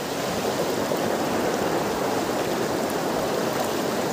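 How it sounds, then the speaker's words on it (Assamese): River current rushing steadily in a rural stream, a dense, continuous broadband wash of flowing water, close and loud, with no voices. "নদীৰ সোঁত চাই লওক পানী পানী চাওক"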